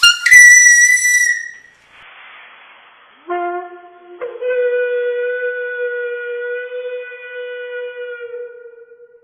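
A recorder sounds a clear whistling note in normal air, then after a brief breathy hiss plays notes in helium at a noticeably raised pitch, each tone sustained and close with no talking.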